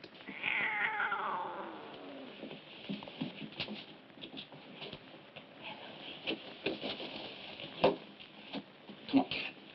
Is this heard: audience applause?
no